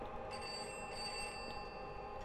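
A telephone ringing in the horror game Pineview Drive, a faint, distant bell-like trill with a steady high tone and soft repeated pulses, heard alone.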